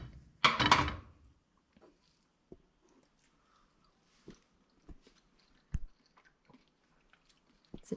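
Someone chews rehydrated freeze-dried scrambled eggs seasoned with salt and pepper. A loud burst of noise comes first, then quiet close mouth sounds and occasional soft clicks over several seconds.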